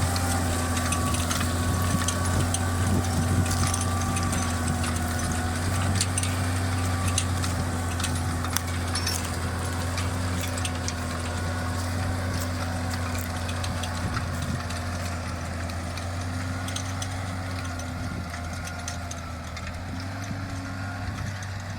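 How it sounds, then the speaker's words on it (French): A tractor engine runs at high revs while pulling a 5-meter Sysmixx cultivator with a SpringFlex roller through a field, a steady droning hum with a constant rumbling tone, loud and close, easing slightly toward the end, with no talk. "Vous l'avez entendu, hein, le moteur il est assez dans les tours"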